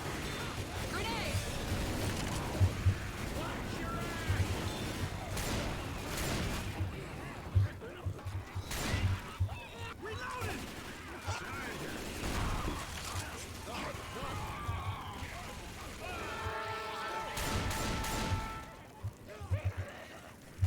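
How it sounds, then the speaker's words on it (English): Grenade blasts and bursts of gunfire in Left 4 Dead 2, loud and repeated over a long stretch, with several sharp booms and steady shooting mixed under players' shouted talk. "Grenade!"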